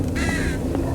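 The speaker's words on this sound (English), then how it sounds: "Is that crow coming after me?" A crow in the video game Them & Us gives a short, harsh caw over a steady, dense background ambience.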